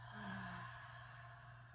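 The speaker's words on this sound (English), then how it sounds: "Exhale through the mouth." A single soft, breathy exhale through the mouth during a guided deep belly-breathing exercise, quiet and close, lasting about a second and trailing off with no talking.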